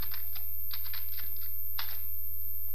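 Computer keyboard typed on while writing C code, a run of quick, light key clicks in uneven bursts with short pauses over a steady low hum, no voices.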